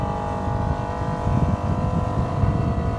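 BWA Sport 28 GTO rigid inflatable boat running its outboard engine at full throttle, a steady loud roar with a constant droning tone and wind and water rush around it, close to the microphone.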